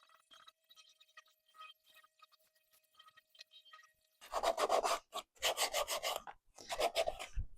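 Hand sanding with fine 220-grit sandpaper: soft rasping rubs at first, then loud rhythmic back-and-forth scratching strokes close by.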